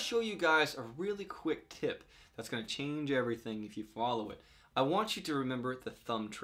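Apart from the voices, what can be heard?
No everyday noises stand out.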